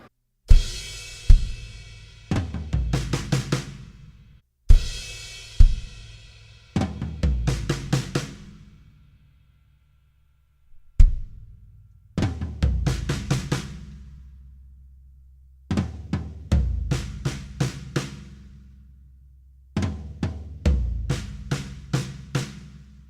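A drum kit fill of kick and snare sixteenth notes from a worship song, repeated several times as short punchy bursts of rapid hits, each followed by ringing cymbal decay and silence.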